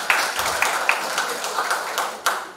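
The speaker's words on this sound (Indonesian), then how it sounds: "Tepuk tangan Pak." A few people in the room at a district development planning meeting, the Musrenbang of Babakan Madang subdistrict, clap in a short, thin, scattered round of applause with occasional sharper claps.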